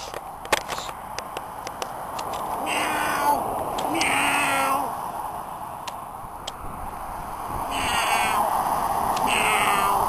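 A cat meows several times, with drawn-out cries spaced a few seconds apart over a background of faint ticks and clicks.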